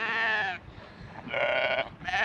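Sheep, older ewes on a small farm, bleat in three loud wavering calls separated by short pauses, close by and clear with no talking.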